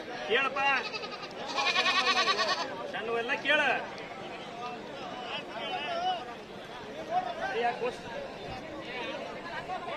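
Goats bleat repeatedly at a busy Thursday-morning sheep and goat market in Haveri, Karnataka, several loud nearby calls overlapping with crowd chatter and people talking.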